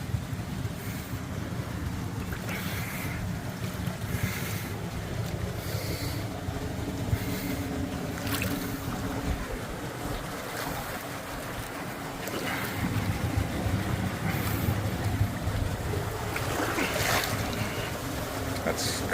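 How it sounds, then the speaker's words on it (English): A waterfall in a sandstone slot canyon at Coyote Gulch, giving a constant broadband rush of falling water that stays steady and fairly close, with some wind buffeting and no clear speech. "We came to a pretty good funky waterfall."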